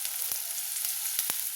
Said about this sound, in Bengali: পেঁয়াজগুলো লাল লাল করে ভেজে নিচ্ছি